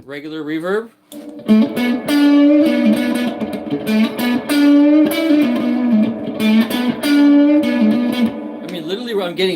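Fuzz-distorted electric guitar through a regular reverb, loud sustained chords with a short gap early on, then steady strummed and held notes with a reverb tail.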